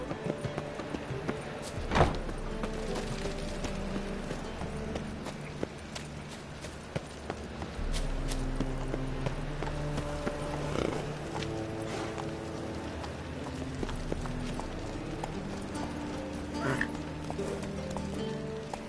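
Hooves of a horse named Roach clip-clop in a steady walking rhythm, close and clear, with a brief whinny early on, over a bed of music and occasional voices.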